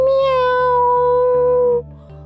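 A voice imitates a cat's meow during a kids' yoga cat pose, one long drawn-out sung meow held steady and loud, tapering off near the end over a faint steady background hum.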